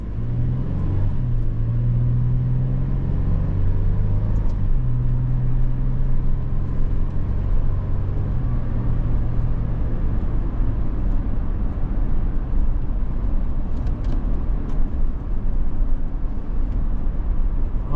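A 2024 Toyota 4Runner Limited 4x4 is driven and braked. A steady, loud engine drone and road rumble run throughout, with a low tone that shifts pitch in the first half. No voices are heard.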